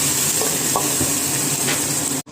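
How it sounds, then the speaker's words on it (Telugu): Fenugreek seeds, dried red chillies and onion paste sizzle steadily in hot oil, a dense continuous frying hiss with a few faint stirring clinks, cut off abruptly near the end. "హీట్ అయింది కదా ఇప్పుడు కొంచెంగా మెంతులు వేసుకుందాం ఎండుమిర్చి మనం ముందుగా రెడీ చేసి పెట్టుకున్న ఉల్లిపాయ పేస్ట్"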